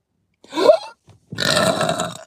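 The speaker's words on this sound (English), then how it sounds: "That was a big burp." A deep, drawn-out burp from a woman, then a brief pause and a second, longer and louder belch, both close and alone with no talking.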